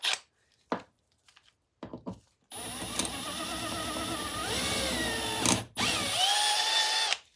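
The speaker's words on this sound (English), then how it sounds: "we've got to drill out, might as well drill the back one as well" A power drill drills out a part, with a few short clicks and bursts first, then a long steady whining run, a brief stop and a second sustained burst close by.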